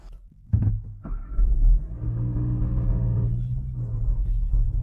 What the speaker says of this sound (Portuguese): apenas ouvimos o barulho do motor